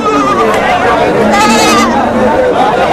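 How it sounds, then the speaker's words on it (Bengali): Loud bleating from several goats over the busy chatter of a crowd at Hazratpur goat market, with overlapping calls rising and falling close by. "এদিকে অনেক ছাগল"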